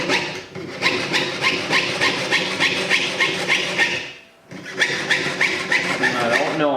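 A jeweler's saw rasps back and forth through copper in quick, regular strokes, pauses briefly, then resumes close up.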